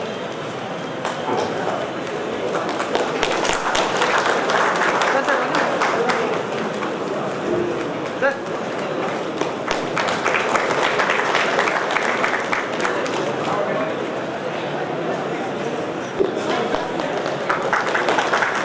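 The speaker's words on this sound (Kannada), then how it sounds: "ಜೋರಾಗಿ ಚಪ್ಪಾಳೆ ಸನ್ಮಾನ ಮಾಡ್ತಾ ಇದ್ದಾರೆ." Sustained crowd applause fills the whole stretch, steady and dense clapping from a sizeable audience at a felicitation ceremony in Koppal district, India, with some voices mixed underneath.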